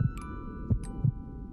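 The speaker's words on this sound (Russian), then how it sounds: "Смотрите, у него сердце бьется." A child's heartbeat in The Child's Sight video game thumps as three soft, low pulses spaced roughly a third of a second apart, heard alone over a faint steady hum.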